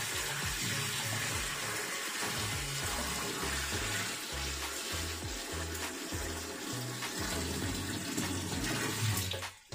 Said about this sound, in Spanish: vamos a ir introduciendo el agua con cuidado